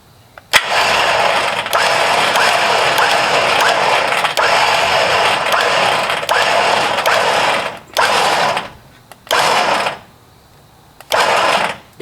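A winch motor on a Jeep Gladiator reels in cable with a loud, steady mechanical whir for about seven seconds, then runs in three short separate bursts with brief silences between them.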